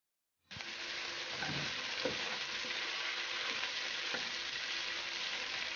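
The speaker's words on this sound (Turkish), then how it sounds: "Biberlerimizi böyle çevirdik biraz arkadaşlar yağda." Peppers fry in hot vegetable oil, a sudden loud sizzle bursting in and holding steady, with faint stirring clatter under the crackle.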